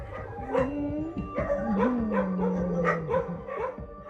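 Dogs being rescued from the illegal dog meat trade bark, whimper and howl together, with overlapping yips and a drawn-out howl that rises and falls, close and continuous.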